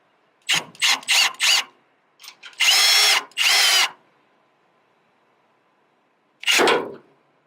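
A power drill drives self-tapping screws into a 2008 Ford Ranger tailgate: several short bursts of whirring, then two longer grinding runs, a pause, and one final burst, all close up.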